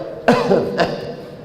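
A single short, rough cough followed by a weaker second burst, close to the microphone over faint background hum.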